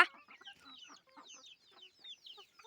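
Hens on a small home chicken farm cluck and chatter in quick, overlapping bursts close by, a busy flock calling continuously with no one speaking.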